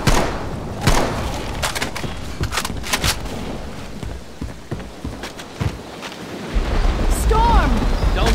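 Thunder rumbles and booms in a Left 4 Dead 2 thunderstorm, mixed with gunfire cracks and heavy thuds, with a deep, loud rolling swell near the end.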